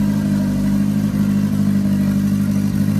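A VW drag racing car's engine idles loud and close in the engine bay, a deep, steady burbling hum with slight rhythmic lumpiness and no voices.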